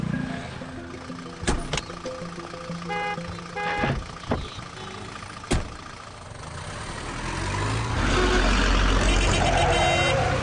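A bus engine runs steadily on the road, with a few sharp clanks and a brief tone early on, and the low rumble grows louder and heavier toward the end.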